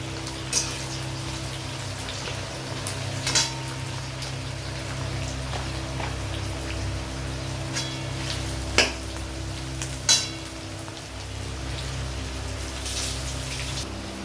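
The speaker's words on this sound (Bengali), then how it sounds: "একটু ভাজা ভাজা করে নেবো পেঁয়াজগুলো।" Onions fry in oil in a pan over a tempering of dried red chillies and bay leaf for mutton kosha, making a continuous crackling hiss with occasional clicks and scrapes from stirring.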